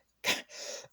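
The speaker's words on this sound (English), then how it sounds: "sorry about that cough." A single close cough, a sharp burst followed by a raspy exhale, then quiet.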